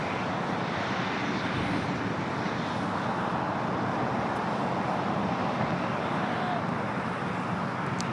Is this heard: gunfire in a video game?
no